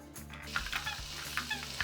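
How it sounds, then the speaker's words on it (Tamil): Onion dough squeezed into hot oil sizzles steadily, with soft crackles and small pops rising from the pan. "எண்ணெய் இப்போ நல்லா சூடாயிடுச்சு நாம் பிழிஞ்சு விட்டுக்கலாம்"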